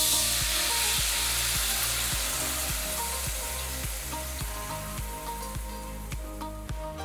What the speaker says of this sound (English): So give the sauce a good mix and then add it to your pot or your pan.